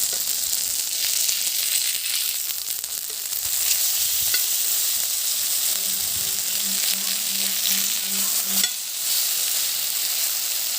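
Fish fries in sesame oil with a loud, continuous close sizzle and hiss, steady throughout, with a faint low hum partway through.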